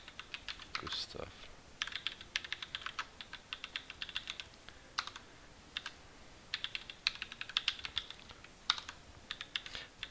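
Quick bursts of typing on a computer keyboard as a delivery address is entered in an office software exercise, with rapid clustered key clicks separated by short pauses, close and fairly quiet.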